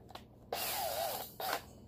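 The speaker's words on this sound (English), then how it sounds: "I take a drill, open it up" Cordless drill used to open up a wire hinge of cattle-iron panels while building barn stalls, two short whirring bursts with a brief pause between them, close and moderately loud, no voices.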